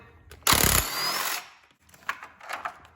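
A power tool with a 13mm socket spins out a battery holder bolt on a Fiat 500 Abarth, a loud half-second burst of ratcheting whir followed by softer clinks and taps.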